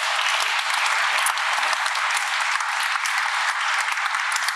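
Loud, close, continuous applause from an audience welcoming a finalist author at a junior literary prize event, even and unbroken clapping throughout.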